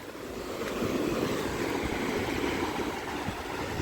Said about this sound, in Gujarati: તમે જોઈ શકો છો દરિયો વેળ આવે છે ઉતરતી જાય છે